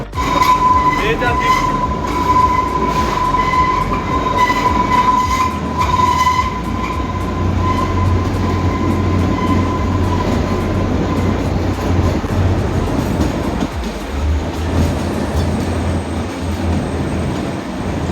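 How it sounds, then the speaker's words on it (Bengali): The Kalka–Shimla toy train, the Shivalik Deluxe Express, runs through the mountains with a loud, steady rumble and clatter of the carriages, plus a high thin wheel squeal early on that fades out midway. "সকাল সকাল টয় ট্রেনে চড়ে এরকম পাহাড়ের দৃশ্য উপভোগ করতে করতে"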